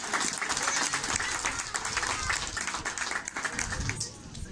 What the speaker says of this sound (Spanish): fuerte el aplauso para el tío.